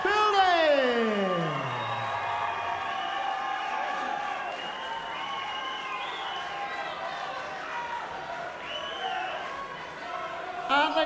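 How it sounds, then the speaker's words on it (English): A boxing crowd at a live undercard event keeps applauding and cheering as a fighter leaves the ring, with steady clapping, whoops and a rising-and-falling whistle or shout, and voices mixed in throughout. "keep that round of applause going"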